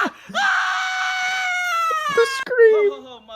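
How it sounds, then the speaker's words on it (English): A man screams in a long, loud, strained wail that breaks into shorter cries, played back from a video. "The scream."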